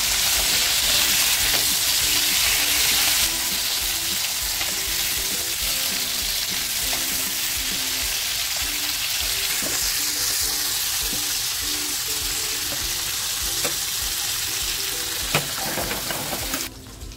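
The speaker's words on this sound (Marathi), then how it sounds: "मच्छी बघा आपली एक बाजूने छान फ्राय झालेली आहे" Fish frying in a pan of hot oil for fish biryani, a loud continuous close sizzle with crackling and occasional clinks near the end.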